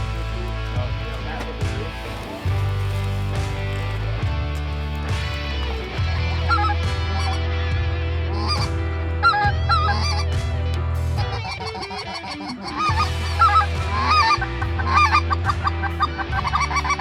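Geese honk repeatedly in the background during a goose hunt in Campo, Texas, a steady low drone underneath with occasional louder bursts of calls and noise toward the end.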